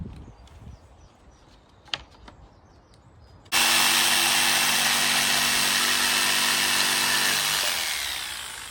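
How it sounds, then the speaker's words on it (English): After a few quiet seconds with small knocks, a power saw roars to life loud and close, cutting steadily through a wooden shelf to trim it down, then its pitch starts to wind down near the end. "This is too wide at that point. I'm going to trim this down a bit."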